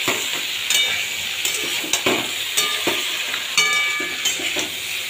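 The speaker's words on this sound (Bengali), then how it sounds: "এবার এটাকে খুব ভালোভাবে আমি মিশিয়ে দেবো একসঙ্গে।" A Bengali cauliflower-stem curry with small shrimp, eggplant and pumpkin is stirred in a pan, with repeated scraping strokes of the spoon over a soft, continuous sizzle and no voices.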